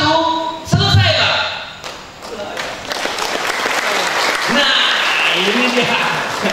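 An audience applauds after a document signing at a national-insight forum, with steady, dense clapping filling the room and a voice speaking over the applause.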